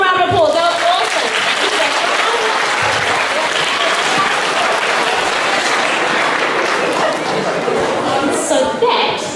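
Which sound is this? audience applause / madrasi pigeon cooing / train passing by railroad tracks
audience applause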